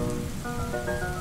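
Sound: rain falling

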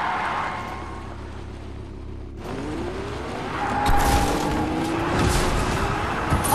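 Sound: car drifting with tire skid in Fortnite video game

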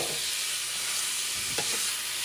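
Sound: ground meat sizzling and being stirred in pan

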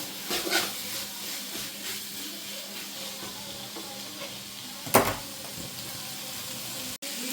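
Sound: onions sautéing in a pan for chicken curry

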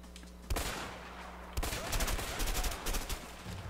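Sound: gunfire in the video game A Way Out

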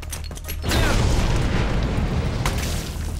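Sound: grenade explosion in the video game Dead Rising Deluxe Remaster

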